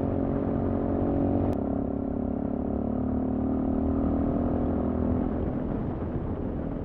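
A 2020 Sinnis Terrain 125 motorcycle engine drones steadily at a constant pace throughout, with wind rush over it and no speech.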